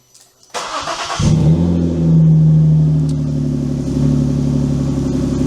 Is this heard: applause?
no